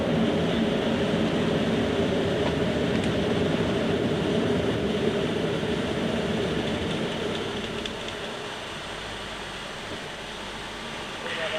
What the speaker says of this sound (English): That airflow noise we were getting before has now diminished.